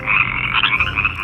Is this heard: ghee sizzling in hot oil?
no